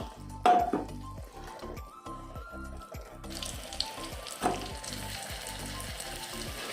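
Ghee melts in a pan with chili powder, roughly chopped ginger and asafoetida, giving a soft steady sizzle that grows denser over time, with a few sharper clinks and a rhythmic low background hum.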